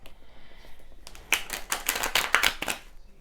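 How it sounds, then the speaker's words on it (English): A burst of rapid riffling tarot card shuffles, crisp and close, following a quieter stretch with soft handling sounds. "I will shuffle properly with these."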